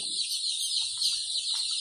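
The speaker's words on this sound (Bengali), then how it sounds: "এগুলো হচ্ছে মিশরীয় ফার্মি মুরগির জিরো বাচ্চা" Day-old Fayoumi chicks peep and chirp continuously in a high, steady chorus, with faint low rustling underneath.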